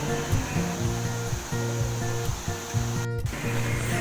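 Maranun Falls in Natividad, Pangasinan, a waterfall in natural forest, heard as a loud, continuous broadband roar of rushing water close by, with a brief dropout near the end but otherwise unbroken.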